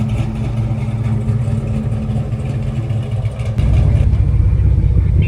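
A car fitted with a T56 six-speed gearbox from a Dodge Viper runs with a loud, steady engine rumble that lifts into a heavier, fuller drone partway through, recorded close at a racing event.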